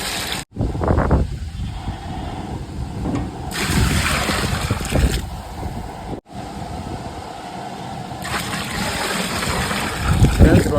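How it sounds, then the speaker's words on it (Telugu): Water poured from a vessel into a pot of rice being cooked for a large batch, a steady splashing rush that rises and falls in two long bursts with brief pauses, close and fairly loud. "ఇప్పుడు వాటర్ అయితే వేసుకుందాం."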